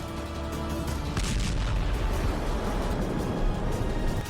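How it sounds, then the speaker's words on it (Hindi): A Russian T-72 tank explodes after an RPG hit in a war zone: a heavy, rumbling blast with crackling bursts, followed by a sustained roar and further pops and booms. "इस वीडियो में यूक्रेन का एक सैनिक रूस के टैंक पर आरपीजी से निशाना साधता है और फिर देखिए कैसा धमाका हुआ"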